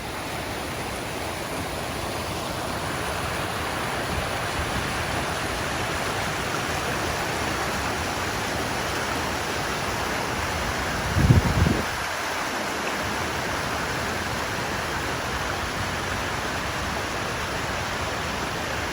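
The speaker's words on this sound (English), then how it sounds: "I'm just about standing underneath Mürrenbach Falls now" A steady, broad roar of falling water from Mürrenbach Falls, a tall waterfall in Lauterbrunnen, Switzerland, fills the air, constant and close from just beneath it, with a brief thump partway through.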